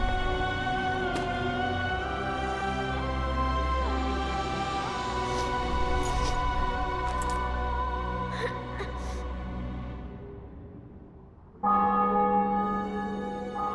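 Church bells ring out in The Witcher 2: Assassins of Kings after a city and fortress are taken, with rich sustained tolls layered into a continuous resonant wash, a brief dip near the end, then a fresh strike.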